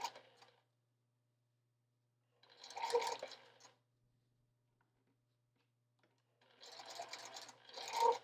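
A sewing machine stitches curved fabric pieces for an improv quilt in short bursts, whirring briefly, pausing in silence, then running again in two closely spaced runs.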